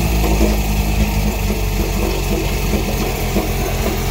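An OMC outboard engine fed by a pressurized fuel tank idles low and rough, a loud, steady rumble that bounces slightly throughout, heard alone with no talk.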